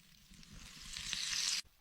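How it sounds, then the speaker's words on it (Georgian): Steady, bright sizzling of steak searing in a hot cast iron pan, building slightly louder before cutting off abruptly near the end. "თუჯის ტაფაზე სტეიკის შეწვისას დარწმუნდით, რომ ტაფა კარგად გაცხელებულია."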